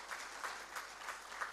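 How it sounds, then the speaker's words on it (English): Audience applause at the inauguration of the Pune Manufacturing Expo 2022, a faint, steady patter of scattered hands with a few louder claps, heard from a distance in a hall. "A round of applause for my colleague Sudhanwa."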